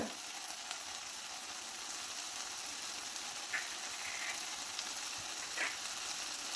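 Spice powders, turmeric then a tablespoon of chili powder, sizzle in hot oil in a frying pan for a drumstick and potato curry, a steady soft hiss with a few faint stirring scrapes and no talk.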